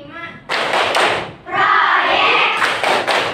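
Indonesian school class performing the rhythmic "tepuk P5" clapping chant, with loud bursts of group hand claps alternating with voices chanting together, close and energetic in a classroom.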